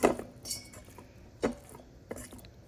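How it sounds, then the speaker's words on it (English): A fork gently fluffing cooked white rice inside an Instant Pot, heard as faint, sparse scrapes and light metallic clinks against the inner pot, three or four soft strokes in near quiet. "Fork, using a fork. Be gentle and just start fluffing."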